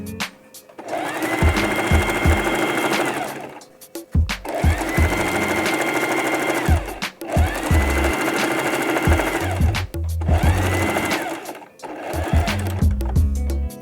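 A sewing machine back stitches a simple tote bag in four short bursts of rapid mechanical whirring, each separated by brief pauses with clunks and clicks, loud and close.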